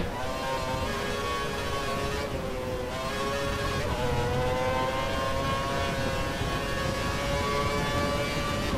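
A Formula One race car engine in the F1 2012 racing game at Melbourne drones loudly and continuously with a high, whining tone that dips briefly in pitch, then holds steady.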